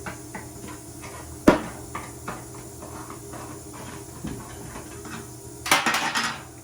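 A container of colored bedliner pigment is popped open. A single sharp snap comes first, followed by quieter handling and then a short clattering rattle of the lid and container.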